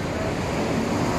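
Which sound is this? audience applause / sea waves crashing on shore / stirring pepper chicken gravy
sea waves crashing on shore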